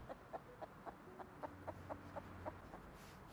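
Chicken in the video game Rust clucks in a quick, regular series of about a dozen short, faint clucks over a low steady background hum.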